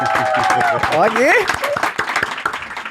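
A studio audience claps and cheers for an arriving guest, applause mixed with loud overlapping voices and exclamations close to the microphone.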